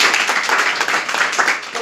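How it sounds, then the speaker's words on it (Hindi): Audience applause in a hall, steady dense clapping from many hands, fairly close and continuous for a couple of seconds, with a voice mixed in. "तो इस हाल में जितने सर सब उपस्थित है सबके एक जोरदार ताली।"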